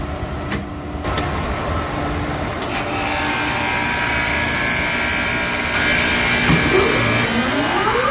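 A pipe freezing machine hums and whines steadily while it freezes a 1/2-inch copper pipe so a valve can be installed. A couple of clicks sound at the start, the drone grows slightly louder over time, and nobody speaks.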